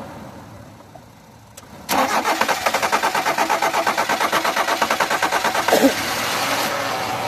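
Old car engine cranked by its starter after a brief quiet pause, catching with a loud, rapid rhythmic chugging that runs steadily for several seconds, close up, with no talk over it.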